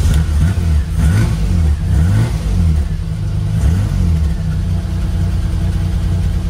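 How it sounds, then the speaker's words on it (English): A 3-liter Marcos GT engine runs loud and close, rising and falling through several revs before settling into a steady rumbling idle. "Let's start the engine and try it out."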